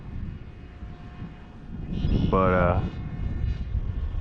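A Nano Talon RC plane's electric motor whines past with a brief rising and falling tone over wind noise outdoors, while someone talks nearby.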